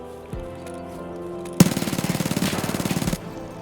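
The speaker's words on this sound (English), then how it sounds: "Notice how they had time to react and actually got a shot off right over my head?" Burst of rapid automatic SMG fire from Escape from Tarkov, a sharp onset followed by a steady rattling stream of about a dozen and a half shots lasting over a second, loud and close, with quiet game ambience before and after.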